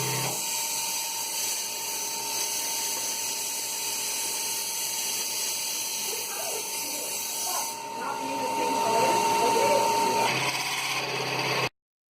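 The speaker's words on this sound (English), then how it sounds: "Let's see how those holes were made on the drill press." Steady mechanical whine of a drill press drilling holes in metal engine mounts with cutting fluid, running continuously, its tone rising and grinding harder partway through before cutting off abruptly.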